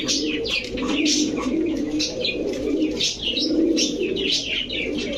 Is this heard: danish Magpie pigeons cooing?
yes